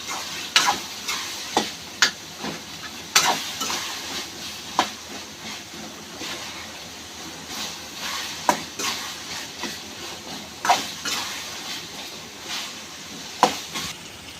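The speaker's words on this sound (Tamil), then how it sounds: "கொஞ்ச நேரம் எண்ணெயிலே அப்படியே வேக விடுங்க" Eggplant cooks in oil for an oil-style brinjal thokku, a steady faint sizzle broken by scattered sharp crackles and pops at irregular intervals, with no one talking.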